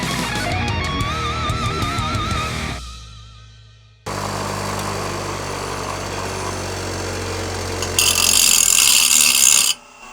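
Power grinder truing the worn edges of a steel Honda Transalp motorcycle kickstand, a loud continuous grinding and rasping that stops abruptly, then resumes as a steady harsh whine, rising sharper and brighter near the end before cutting off.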